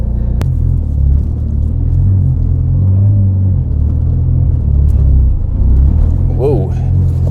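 A car with newly installed suspension components and wheel bearings drives around a neighborhood, a steady low engine rumble and road noise heard up close from inside, with a brief sharp knock near the start.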